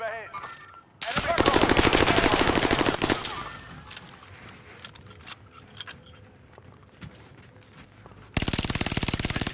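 Gunfire rings out in the video game Call of Duty: Modern Warfare. Dense rapid automatic bursts come loud and close, then there is a quieter stretch with scattered distant shots, and then another heavy burst. Muffled voices run underneath.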